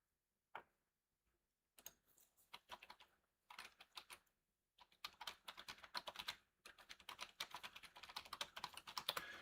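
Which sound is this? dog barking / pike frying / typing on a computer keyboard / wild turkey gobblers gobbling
typing on a computer keyboard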